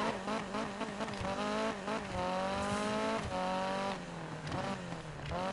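A race car in a Need for Speed game pulls away slowly in first gear, its engine whining in long rising revs that hold and climb for several seconds, loud and close, with brief tire squeal and no talk.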